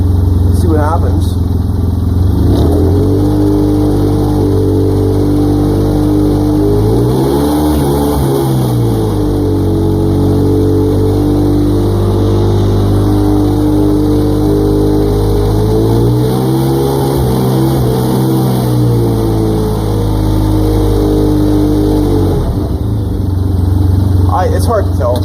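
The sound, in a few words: Starknight MT vehicle engine driving in four-wheel drive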